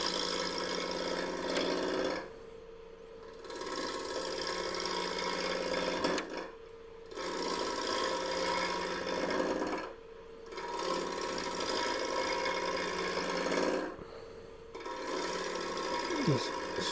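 Wood lathe spinning at about 800 rpm while a bowl gouge cuts a three-sided bowl, a steady whirring hum broken by rhythmic scraping bursts and brief dips every few seconds.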